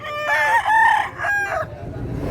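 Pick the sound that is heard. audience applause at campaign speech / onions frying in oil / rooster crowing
rooster crowing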